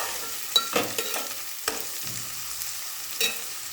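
Onions with ginger and garlic frying in a pan, a quiet sizzle broken by several sharp scrapes and clinks of stirring at irregular intervals.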